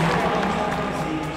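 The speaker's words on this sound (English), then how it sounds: "You can hear the crowd getting excited as Finucane gets closer." Velodrome crowd at a track cycling race, with Emma Finucane closing in, sends up a continuous loud roar of cheering that fills the space and fades slightly by the end.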